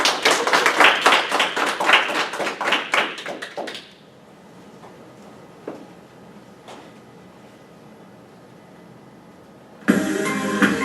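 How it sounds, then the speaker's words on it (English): A small audience gives a round of applause before a speaker talks about fashion: brisk, rhythmic clapping for about four seconds, then a near-silent pause with a few faint knocks before a loud noisy burst returns. "a warm round of applause"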